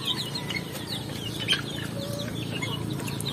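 Several native chickens on a farm cluck and chatter together nearby, short overlapping calls over a steady background hum.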